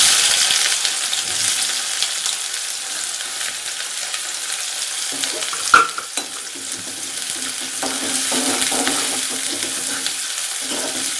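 Onions frying in a home kitchen pan after a pinch of asafoetida, a steady broadband sizzle with stirring scrapes and a sharp clink near the middle, no talking.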